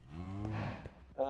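Minecraft cow lets out a low, droning moo lasting about a second, close and moderately loud, followed by a short higher blip.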